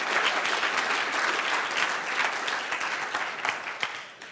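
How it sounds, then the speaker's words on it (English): A live audience bursts into steady, dense applause that holds at full strength throughout, with a few sharper individual claps near the end as it starts to thin. "Give him a round of applause"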